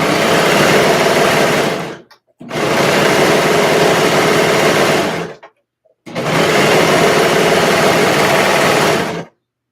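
A serger sewing machine stitching fabric in three loud, steady bursts of fast whirring, each running a few seconds before stopping briefly and starting again.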